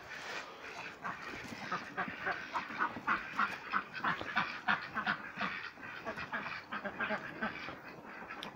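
A flock of farm ducks quacks continuously on a village morning, the calls overlapping in a steady, fairly distant chorus.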